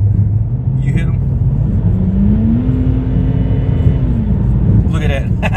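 BMW car engine revving up to nearly 5,500 RPM, a loud steady drone that climbs in pitch, holds high, then eases back down, with a voice talking briefly at the start and end.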